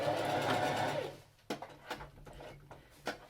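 A sewing machine back stitching at the end of a seam on a tote bag, a brief steady whirring run followed by a few separate clicks and clunks as the stitching stops.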